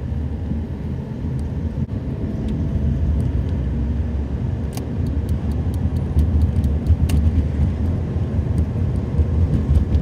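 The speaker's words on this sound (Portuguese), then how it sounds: "Tem muito caminhão passando aqui." Heavy truck traffic on the Rodoanel highway near São Paulo at rush hour gives a continuous low engine rumble and road roar heard from inside a moving vehicle, with passing trucks swelling and receding and no talk.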